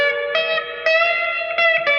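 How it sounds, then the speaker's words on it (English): A clean electric guitar with Fender pickups plays through a Seymour Duncan Convertible amp with light hall reverb: a few sustained twangy chords, each struck and left ringing, with a soft reverb tail between strums. "It's not like super strong reverb, but it does the job if you just want a little bit of that kind of hall sound."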